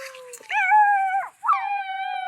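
A dog howls in two long, drawn-out tones close by, with a short break between them.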